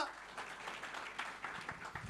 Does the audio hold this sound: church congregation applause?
yes